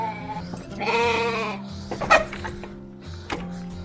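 Sheep and lambs bleat repeatedly on a farm after rain, with one long, loud, wavering bleat and several shorter calls close by and overlapping.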